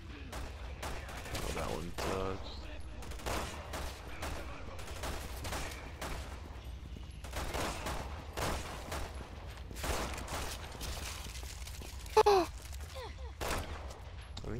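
Repeated gunfire bursts in Resident Evil 6, the shots cracking one after another across the stretch in a busy, loud game mix, with a player speaking briefly over them.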